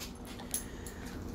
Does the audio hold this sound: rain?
no